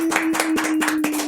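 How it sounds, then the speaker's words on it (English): Brief applause welcoming a guest onto a podcast, a quick burst of several sharp, close hand claps over a faint steady hum. "Give him a round of applause."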